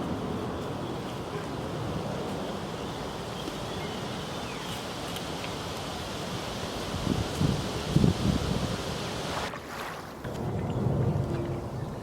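Cold northerly wind blows steadily outdoors on a carp fishing bank, a continuous broadband rush with gusty swells and a few brief knocks and rustles near the microphone, no voices.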